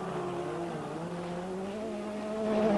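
A rallycross car at Lohéac in 1991 pulls hard, its engine note climbing steadily and growing louder toward the end, with a distant, slightly muffled quality and no voices.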